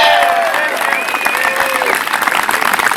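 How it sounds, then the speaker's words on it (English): A crowd claps in sustained, steady applause at a band camp performance, with a few voices rising above the dense clapping. "give one more big round of applause for our incredible crew of instructors."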